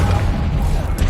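Confringo blasting spell from Hogwarts Legacy going off as a short, dense burst of rumbling, crackling explosion noise, loud and sustained for about a second with no voices.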